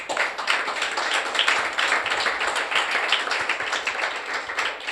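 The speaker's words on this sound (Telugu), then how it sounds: "చప్పట్లు కొట్టాలి ఒకసారి" A church congregation clapping hands together, a dense, steady patter of many claps held at moderate loudness throughout, with no voices rising above it.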